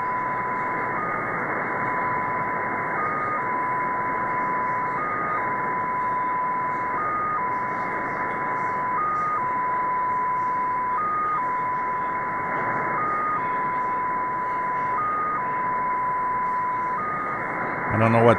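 The Russian XPA2 numbers station comes in on a software-defined receiver: a steady tone is broken by short beeps at regular intervals over a hiss of static, with a voice talking underneath.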